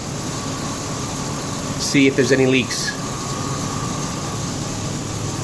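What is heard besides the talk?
Ford Ranger engine idling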